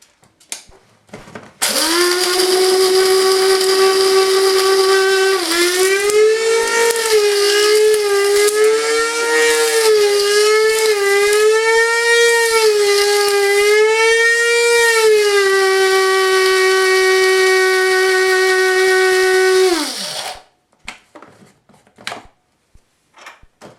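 Electric spice grinder whizzing whole spices for garam masala, a loud steady high whine that wavers slightly in pitch while the spices rattle inside, running about eighteen seconds before winding down.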